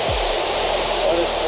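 A waterfall in the Atherton Tablelands of tropical Queensland gives a steady, loud, broadband roar of falling water that holds constant throughout.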